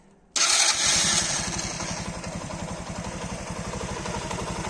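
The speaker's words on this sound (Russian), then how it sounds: "Смотри, как альфа должна работать." Alfa Romeo car engine starting from cold and running with abnormal noises, a sudden loud catch after a short silence, then a steady rhythmic idle with a ticking, knocking pulse.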